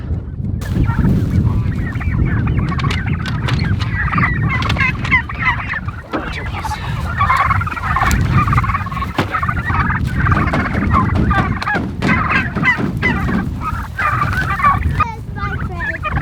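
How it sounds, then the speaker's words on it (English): A flock of homestead turkeys gobbling continuously, many overlapping calls close by against a steady rumbling background. "I'm gonna get these turkeys going, get these turkeys out,"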